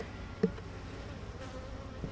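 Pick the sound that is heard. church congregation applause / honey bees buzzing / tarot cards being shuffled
honey bees buzzing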